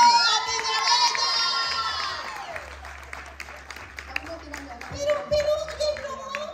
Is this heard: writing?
no